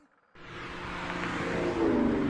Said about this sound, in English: A caravan of two police cars, one at either side, escorts a gray truck down the quiet nighttime streets.